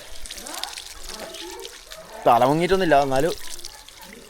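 Water is poured over the head during an outdoor-style bath, first hot and then cold, splashing in uneven bursts, while a voice breaks in with a long, drawn-out exclamation in the middle.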